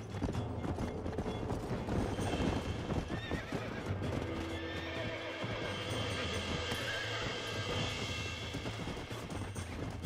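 In Red Dead Redemption on Xbox 360, hooves clip-clop in a steady gallop while a horse whinnies over a dense, busy game soundscape.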